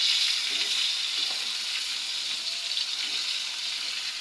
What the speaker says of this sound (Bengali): মাছটা ভেজে দিই